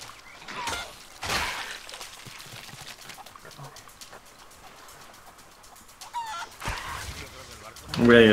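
Chickens cluck and squawk in the Sea of Thieves video game, several bursts of fowl calls rising and fading, with a louder flurry near the end and a person talking at times.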